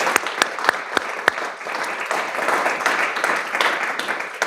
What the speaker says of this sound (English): If we could have a round of applause for our audience, our speakers